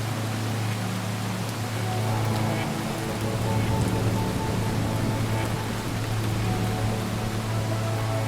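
Steady rain hisses evenly and continuously, a soft wash of drops with a low hum underneath, unbroken for the whole stretch.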